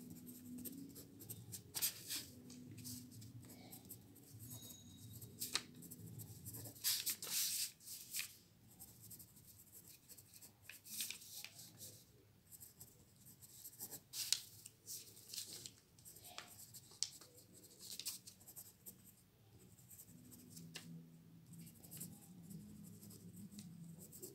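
Handwriting with a pen on paper, soft scratchy strokes in short irregular bursts with pauses, quiet and close, with no talking.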